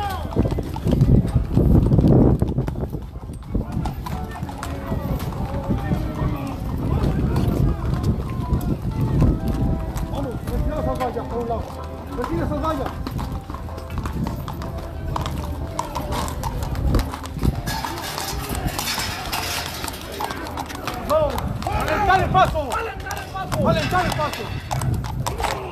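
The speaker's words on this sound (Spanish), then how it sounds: "Caballos, así ha comenzado el Vía Cruz." Horses' hooves clip-clopping on a slippery street during an outdoor Vía Crucis procession in Sombrerete, Zacatecas, a steady trotting patter amid crowd noise and someone talking throughout.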